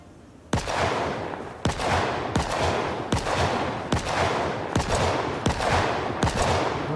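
Sharp gunshots ring out one after another at steady intervals in Project Zomboid, each blast loud and followed by a long, echoing decay.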